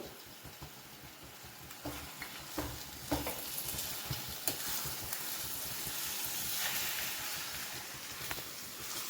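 Mango rice mixture with oil being stirred in a pan: a quiet, continuous sizzle broken by scraping strokes and soft knocks of the spoon in the first half, then a more even hiss.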